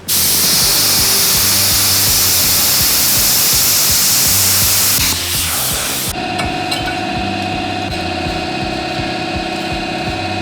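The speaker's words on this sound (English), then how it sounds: "so I'm gonna set up the plasma cutter" A plasma cutter cuts a bracket from a farm truck axle, a loud close steady hiss for about five seconds that then cuts off, leaving a lower mechanical hum.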